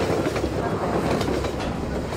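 A train in the video game Half-Life 2 rumbles steadily and loudly throughout, with a continuous rolling clatter and no clear pauses.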